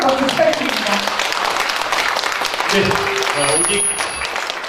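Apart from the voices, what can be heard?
audience applause for Na Kyung-won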